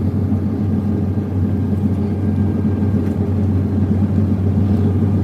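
A John Deere X9 combine harvester's 690-horsepower engine drones steadily and loudly in a wheat field during harvest, a constant low rumble with no break.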